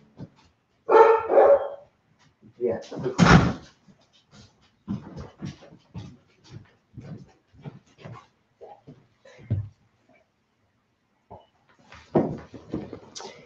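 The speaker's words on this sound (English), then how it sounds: "I'm gonna let this daggone dog in so he'll quit crying" An old Belgian Malinois, about twelve or thirteen years old, barks and whimpers close by in several loud bursts, with someone talking briefly between them.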